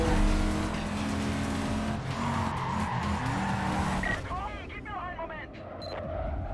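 Torpedo Clio car from Need for Speed racing hard, engine droning steadily with tires squealing and skidding, followed by shorter screeching slides; a voice talks over it.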